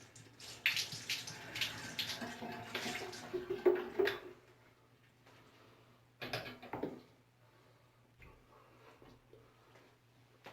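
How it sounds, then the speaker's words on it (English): A shaving brush rinsed with bottled water over a sink: a few seconds of splashing and pouring trickle, then quiet, then a short second splash and soft handling clicks, all close and fairly faint. "I'm gonna take the bottle of water and just kind of rinse it out thoroughly over the"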